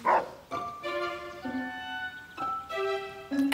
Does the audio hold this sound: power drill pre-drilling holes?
no